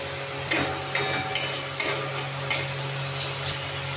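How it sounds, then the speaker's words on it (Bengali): Spice paste for egg curry, made with ground coriander, sizzles steadily in a pan while a spatula scrapes and stirs it in several distinct strokes, close and moderately loud with no talking. "এবার আমরা পেস্টটাকে ভালো করে কষিয়ে নিচ্ছি সব কটা একসাথে।"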